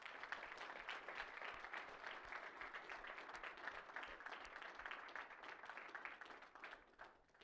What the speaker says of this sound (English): a huge round of applause to all the startups and scale-ups on our program